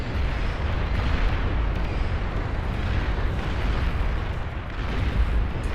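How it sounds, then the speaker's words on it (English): Sustained rumbling blasts and booming explosions from the real-time strategy game Beyond All Reason during a 1v1 match, a dense continuous roar of overlapping detonations at steady loudness throughout. "This game does have very nice explosions."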